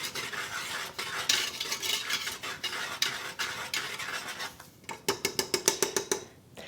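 Spoon stirring ground spices such as cinnamon and ginger with fresh orange zest in a bowl, a steady scraping and clinking that ends in a run of quick, evenly spaced taps.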